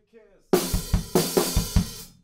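Drum fill coming out of a stop in a song, played on a kit: a faint lead-in, then about six punchy tom and cymbal hits in quick succession, loud and close.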